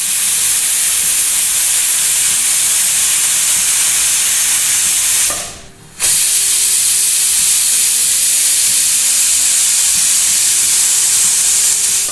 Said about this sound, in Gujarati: હવે ગેસની મીડિયમ ફ્લેમ પર 3 વિસલ કરી લઈએ।